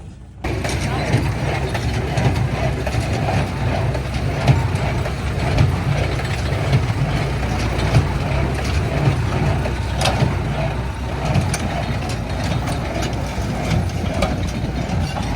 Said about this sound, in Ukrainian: тюкувальний прес Сіпма 224